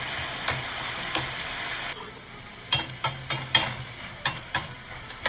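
String beans with garlic sautéing in a pan over medium-low heat, a soft steady sizzle punctuated by repeated sharp scraping strokes of stirring.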